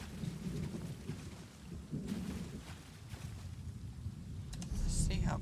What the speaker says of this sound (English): just doing rumbles of thunder